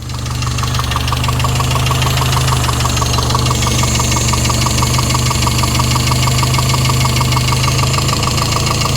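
Chevy Luv truck engine idling close by, a steady loud low rumble with a fast regular ticking pulse running throughout, no voices.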